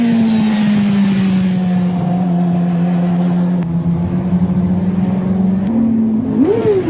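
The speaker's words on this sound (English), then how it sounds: "He's revving it, but too high and still on and off the brake lever, pogoing the bike." A motorcycle engine holds a steady, fairly high rev with no voices, then gives a quick rising blip near the end as it is revved during downshifts.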